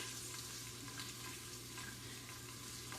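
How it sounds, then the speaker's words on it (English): A spoon stirs ingredients in a soup pot, with a steady low sizzle and bubbling and soft scraping. The sound is faint and continuous and has no talking. "And then we'll stir again."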